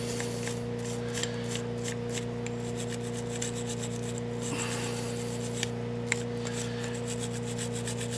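A small nylon brush scrubs the outer walls of a Sovereign lawnmower carburettor wet with GT85 cleaner, giving a close, steady scratchy rubbing over a constant background hum.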